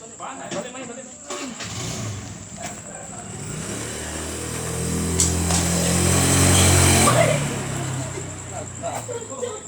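A motorcycle at a jujitsu club shoot in Bali, its engine rumbling and revving up close and swelling louder near the middle, with people talking over it.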